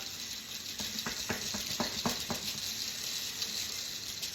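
Empty capsule halves shaken across a plastic capsule filling tray, giving a quick cluster of light rattling clicks over a hissy background that then fades.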